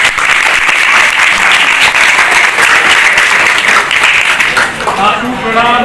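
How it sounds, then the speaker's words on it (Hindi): An audience at a stage play fills the space with loud, continuous applause, dense and steady throughout, a voice rising over it near the end. "इन सब के लिए जोरदार ताली बजाओ।"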